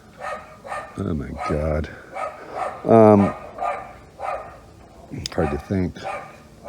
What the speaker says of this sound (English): little yapping dogs